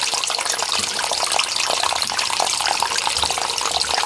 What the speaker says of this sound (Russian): Вода хлещет в подвал беспрепятственно из всех щелей